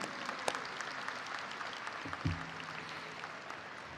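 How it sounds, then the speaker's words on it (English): Steady applause from a crowd at a high school graduation ceremony, a dense even patter of many hands clapping that holds at a moderate level throughout. "Let's give them a round of applause"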